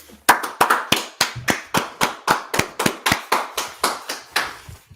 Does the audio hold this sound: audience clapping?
yes